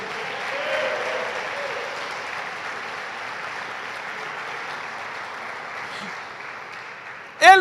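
A church congregation at a Sunday worship service applauds, steady crowd clapping held for several seconds, with a preacher's voice heard under and after it.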